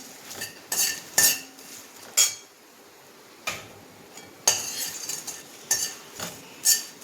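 Cinnamon sticks and bay leaf dry roasted in a pan for homemade onion-garlic masala, with sharp clinks and scrapes of a utensil against the pan coming in short irregular bursts separated by quiet gaps.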